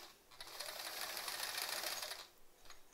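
A sewing machine runs steadily while stitching embroidery along the edge of a quilt-as-you-go sampler block, a single continuous run of rapid needle clatter that tapers off near the end, with no one talking.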